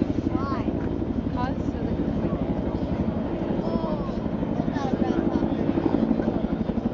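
Steady, heavy military helicopter rotor drone with a low thumping pulse, loud and continuous, overlapping other engine noise, at a Marine Corps air-ground task force demonstration at Joint Base McGuire-Dix-Lakehurst.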